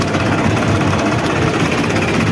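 A combine harvester's engine runs in a crop field during harvest, giving a steady, loud, close mechanical drone with a rough low rumble and no break.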